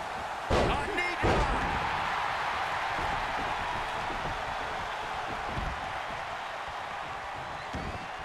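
A wrestling slam in the WWE 2K20 video game, with two heavy impact thuds near the start over a constant roaring arena crowd.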